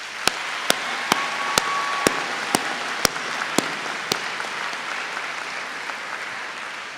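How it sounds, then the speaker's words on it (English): Graduation-ceremony audience at Birmingham City University applauding university staff: a steady wash of many hands clapping, with a few louder nearby claps standing out, holding fairly even throughout. "give a huge round of applause for the university staff"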